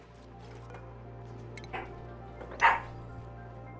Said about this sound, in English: there's no barking in this house.